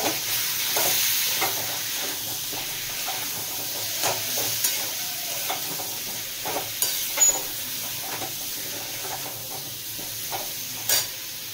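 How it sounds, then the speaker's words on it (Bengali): Amra chutney with turmeric is stirred in a pan, with a soft, constant sizzle beneath repeated scraping strokes and occasional sharper clicks of the spoon, close and fairly quiet. "আর পরিমাণ মতো হলুদ গুঁড়ো দিয়ে দেব। আবারও নাড়িয়ে নেব।"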